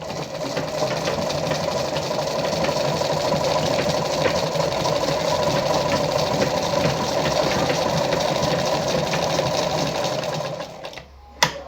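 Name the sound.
Lada model 237-1 sewing machine stitching at 2.5 stitch length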